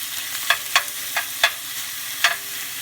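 Soft sizzling of canned bacon frying in a greased pan, broken by a few sharp scrapes or taps, with no one speaking.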